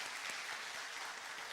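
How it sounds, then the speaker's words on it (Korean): Church congregation at a Sunday worship service applauding to welcome a newcomer, a short, faint burst of many hands clapping, distant and soft, lasting only a moment. "박수하겠습니다."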